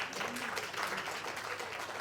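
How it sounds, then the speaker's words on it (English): Guests at a post-wedding dinner give the grandparents a round of applause, a faint, distant patter of many hands clapping steadily, with a little voice murmur mixed in. "Give them a clap."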